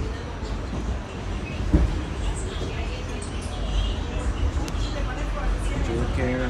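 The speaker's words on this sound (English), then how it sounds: "Subway ride." Steady rumbling of an R46 A train subway car in motion between Grant Avenue and Beach 67th St, New York, a constant low roar with faint rattles and a sharp clank partway through, with voices murmuring underneath.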